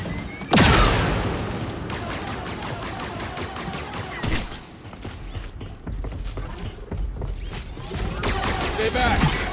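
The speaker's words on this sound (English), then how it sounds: "They're tossing grenades!" Grenade explosions and chaotic combat in Star Wars Jedi Survivor aboard a Lucrehulk ship: loud booms, rapid clanking and mechanical rattles layered over dense blaster fire, with a sharp burst near the start and another midway.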